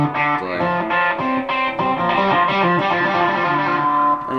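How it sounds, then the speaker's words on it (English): Electric guitar played through a stereo echo effect with a fairly fast delay, sustained chords and notes ringing with repeating echoes, steady and loud with no talking. "it's a stereo echo filter, but with a little bit faster delay"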